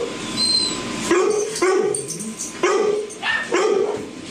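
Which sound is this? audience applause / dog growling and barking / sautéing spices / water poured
dog growling and barking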